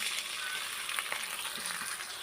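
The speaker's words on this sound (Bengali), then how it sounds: "আদা কাঁচা লঙ্কাটা একটু ভাজা ভাজা করে নেব, কাঁচা গন্ধটা যাওয়া পর্যন্ত।" Ginger and green chillies fry in a pan with a brief, steady close sizzle and faint crackles, no one speaking.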